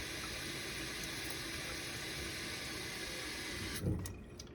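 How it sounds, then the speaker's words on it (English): Steady running water rinses out a fountain pen converter, a constant hissing flow that ends with a brief splash and a change in tone near the end, heard alone without speech. "Just rinse it out one last time."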